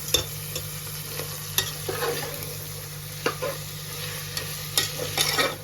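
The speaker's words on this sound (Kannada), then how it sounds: "ಸೊ ಈಗ ನಾವು ಕಟ್ ಮಾಡ್ಕೊಂಡಿರುವಂಥ ಟೊಮ್ಯಾಟೊ ಸೇರಿಸ್ತಾ ಇದ್ದೀವಿ ಇದಕ್ಕೆ" Chopped tomatoes fry in a pan for a one-pot veg kushka rice dish, with a steady sizzle under repeated scraping and clattering stirs of a spatula, close and fairly loud, no voices.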